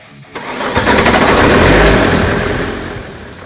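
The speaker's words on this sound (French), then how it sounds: "je maintiens un régime moteur pour chasser l'air" A diesel car engine cranks and catches after a fuel filter change, then revs up into a loud, rough roar held to purge air, before easing down a little.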